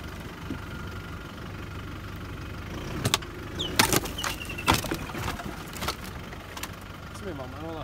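Car engine idles and runs at low speed at a bridge crossing in Moremi Game Reserve, Botswana, a faint steady hum broken by a few sharp knocks and clunks.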